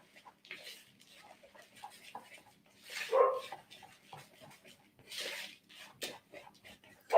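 Dogs barking somewhere in a home kitchen during cheesecake baking, sounding as a few scattered, fairly distant barks and yelps in separate bursts against a quiet background.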